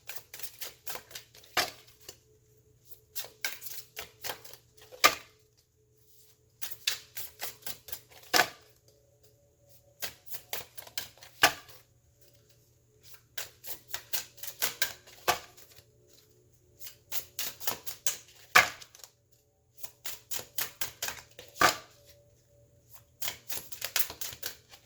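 Tarot cards being shuffled in repeated bursts of riffling and slapping, roughly every two to three seconds, close and crisp over a faint steady hum, with no talking.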